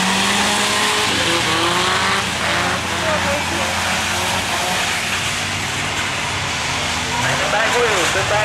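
A ski car races on the dirt oval at Sayre Speedway, its engine roaring steadily as tires squeal and skid, with an announcer talking over the constant loud noise.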